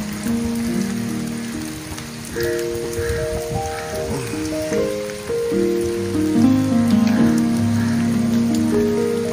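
Heavy rain pours steadily across waterlogged rice fields, a dense continuous hiss that swells louder partway through, with some tonal background sounds layered over the downpour.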